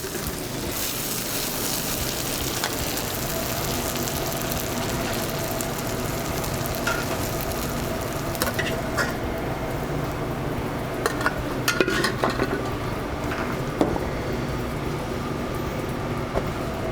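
Ricotta gnocchi tossed in a pan of sizzling brown butter with fresh sage, salt and pepper: a dense, steady frying hiss fills the whole stretch, broken by light clatters and scrapes of the pan.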